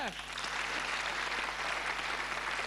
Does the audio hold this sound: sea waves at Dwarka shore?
no